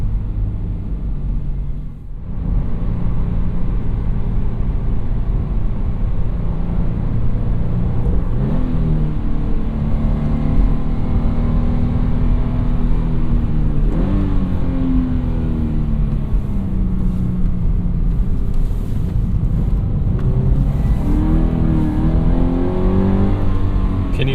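A 2017 Toyota 86 naturally aspirated engine with a six-speed manual roars continuously with a heavy low rumble, its pitch repeatedly climbing and falling as it revs through gears, loud and close.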